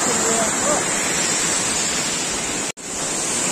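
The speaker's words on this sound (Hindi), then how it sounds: "क्या मस्त वाटरफॉल है।" A waterfall with blue water on the Madhmaheshwar trek in the Himalayas roars as a steady, loud, broadband rush that runs without a break apart from one brief dropout.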